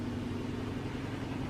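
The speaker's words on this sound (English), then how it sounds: "It's just a little bearing whir." A household ceiling fan gives off a faint, steady bearing whir, a low continuous hum with no variation across the short stretch.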